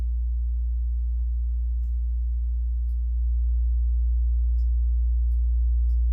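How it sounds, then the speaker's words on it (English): A steady, continuous sine tone from a side-chain gated oscillator in Pro Tools hums low and unbroken, stepping slightly louder and richer partway through. "our oscillator sounds like this"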